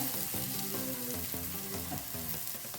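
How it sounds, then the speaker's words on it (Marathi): Thalipeeth, a fasting flatbread, fries in oil on a pan with a steady close sizzle running throughout, mixed with a tonal melodic background. "तेल सोडायचं आणि परत एकदा भाजून घ्यायचे"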